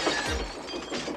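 Glass on an Amtrak Amfleet rail coach window shatters, a single brief burst of crashing and breaking fragments, loud and close.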